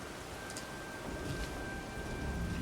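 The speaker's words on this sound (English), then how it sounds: "It's raining?" Steady rain falls in the video game Elden Ring at nightfall, a constant broadband hiss of drops with a faint high tone running through, alone and even for under three seconds.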